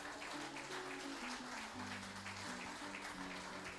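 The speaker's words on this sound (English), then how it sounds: "let's give him a big round of applause" Steady crowd applause fills a secondary school graduation ceremony as the 2024 graduating class takes a bow, with a dense, even wash of clapping and sustained tonal music or organ-like notes running underneath throughout.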